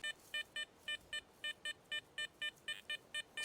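Metal detector beeping over a buried cartridge in a field, a steady run of short, evenly spaced electronic tones, about a dozen in quick rhythm, close and clear over faint background hiss.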